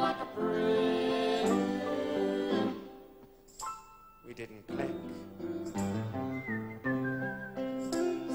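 A man whistles a wavering melody nearby, with short pauses between phrases and a few breathy gaps.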